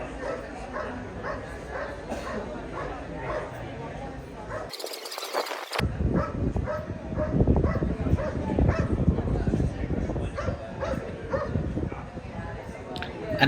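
A dog barks and yips in short bursts at a Mondioring world championship trial, under steady talk and crowd noise, with a brief dropout partway through.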